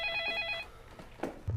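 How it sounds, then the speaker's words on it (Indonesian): A telephone bell rings in a steady trilling burst, then cuts off, followed by a few low thuds and knocks; no one speaks. "Dan telepon pun kembali berdering."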